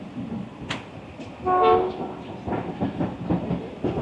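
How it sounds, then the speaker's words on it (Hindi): The Rawal Express rolls into Gujranwala station with a steady rumble and rhythmic wheel clatter. A short train horn blast sounds partway through, and the rail noise carries on loudly afterward with no speech. "चार बजकर 8 पर हमारी रावल एक्सप्रेस पहुंच गई है गुजरांवाला"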